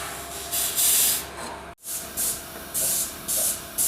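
Krown rust-protection wax hisses from a flexible lance threaded into the panels of a Skoda Favorit, coming as several short, close, loud sprays separated by brief pauses.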